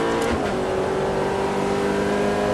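A Ferrari F430 F1 at full throttle during a track driving course at Salon de Provence: a loud, steady engine roar held close throughout, with no talk.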